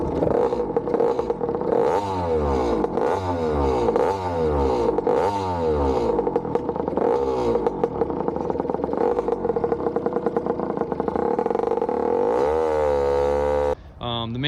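A Honda RS125R two-stroke race bike runs loud and close, its engine revving up and down repeatedly, with rising and falling pitch sweeps, before cutting out near the end.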